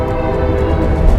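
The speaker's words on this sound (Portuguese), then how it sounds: "Ela passa do lado de uma linha de trem e rola um som de buzina de trem também" A train horn sounds steadily beside a railway line in a film scene, a loud sustained low blare lasting the whole short moment with rumbling rail noise beneath and no voices.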